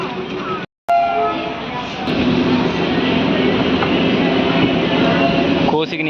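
Aboard a crowded Raichur–Guntakal DEMU passenger train pulling out of Kosigi station, a loud steady rumble and rattle of the carriages fills the scene, with voices of passengers heard over it and a brief dropout early on.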